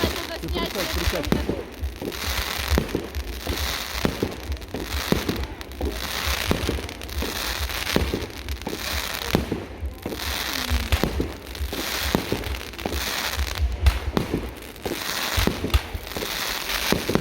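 New Year fireworks burst over Kokshetau in 2023, a dense run of booms and crackling reports from nearby and farther away, with people talking underneath.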